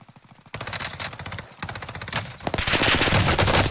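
A PPSh submachine gun fires long rapid bursts in Call of Duty Warzone on Rebirth Island, loud and close, with a brief pause before a sustained stream of rattling shots.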